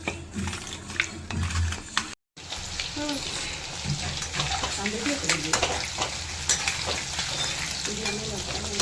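Chicken 65 frying in hot oil, a steady loud sizzle with stirring scrapes and a brief dropout partway through, with a voice talking over it.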